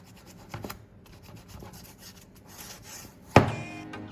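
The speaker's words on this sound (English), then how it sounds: "I go over it one more time with 600 to 800 grit sandpaper" Soft, steady rubbing and rasping of 600 to 800 grit sandpaper on plastic at close range, with brief scratchy strokes and one sharper scrape near the end.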